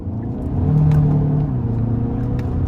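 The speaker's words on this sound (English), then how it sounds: "turbo pull still feels fantastic" A 2022 Kia Sorento SX-Prestige with the 2.5-litre turbo engine and dual-clutch gearbox accelerates in sport mode, its engine rising into a steady, loud droning pull heard from inside the cabin.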